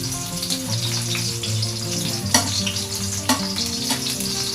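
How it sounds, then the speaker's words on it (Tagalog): Onion sautéing in cooking oil in a pot for chicken adobo with lemongrass, a continuous close sizzle and crackle with a couple of louder stirring knocks. "Okay guys, so maglalagay na tayo ng mantika. Then, saute the onion."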